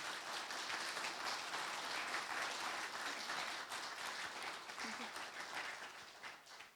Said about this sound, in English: Can we please get a good round of applause for these guys?